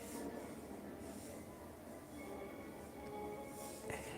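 A CSX freight train rolls past, a faint continuous rumble of rail cars with a brief metallic squeal near the end, heard from some distance.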